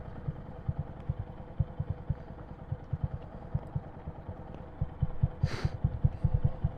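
A 2022 Honda Grom motorcycle engine putters in a rapid, uneven stream of low pulses as a learner rider feeds it gas, rising slightly toward the end, with a brief hiss partway through.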